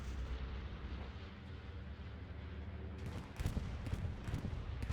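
Explosions from a bombing run in a strategy video game, a low rumbling barrage that swells into several heavier booming blasts near the end, with no talk over it.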